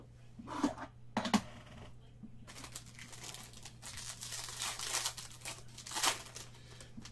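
A pack of thick plastic sleeves for baseball cards is opened nearby, with loud crinkling and a couple of sharp tearing rips, then continued rustling.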